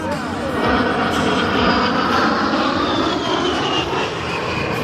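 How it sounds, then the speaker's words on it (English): A-10 Thunderbolt II Warthog with turbofan engines flying at an airshow, a loud continuous jet roar with a slowly shifting whine as it passes, steady throughout with faint crowd noise beneath. "The A-10's turbofan engines add more than just power to its performance."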